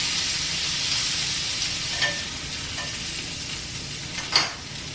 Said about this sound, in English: I'll put them on the grill and sear them